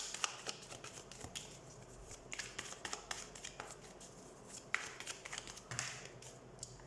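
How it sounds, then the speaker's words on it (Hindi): Tarot cards being shuffled by hand ahead of a reading, giving a run of soft, quick riffling taps and flutters at close range with no voices. "तो सबसे पहले हम कार्ड शफल कर लेते हैं"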